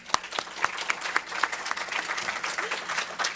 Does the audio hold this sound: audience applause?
yes